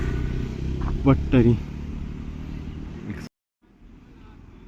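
City road traffic passes with car and motorbike engine noise and a couple of horn toots, steady and fairly close, while a person talks over it; the sound drops out briefly near the end.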